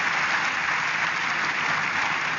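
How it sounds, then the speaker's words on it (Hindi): A crowd gives loud, sustained applause to welcome a woman named Pragya, a continuous even roar of many hands clapping with no voices above it. "सो जोरदार तालियों से स्वागत करिए प्रज्ञा का।"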